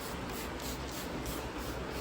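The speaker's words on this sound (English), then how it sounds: "Then go in with a" A linen mist spray is sprayed onto fabric after a sanitizer, giving a steady, close, airy hiss with faint pulses, and no voices.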